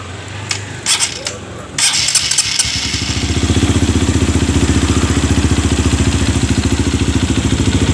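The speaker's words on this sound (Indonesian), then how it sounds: "Kita starter." A Honda CRF motorcycle with a stuttering engine fault is cranked with the electric starter, with clicks and a brief whir, then catches and settles into a loud, steady, close idle. Someone speaks briefly at the start.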